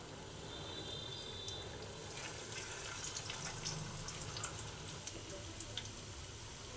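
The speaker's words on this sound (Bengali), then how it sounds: "আমি কড়াইটা বসিয়ে দিয়েছি, আমাদের তেল গরম হয়ে গেছে। এবার আমি নুডলসের রোল এবার আমি আস্তে করে ছেড়ে দিলাম।" Noodle rolls fry in hot oil in a wok, giving a steady, even sizzling hiss with faint crackles that stays fairly quiet and unbroken, with no talking.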